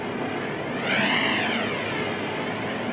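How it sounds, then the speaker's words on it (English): A jet engine in the video game Darksiders roars in a continuous whine, swelling briefly as it passes, with no talking. "I like the jet engine noise"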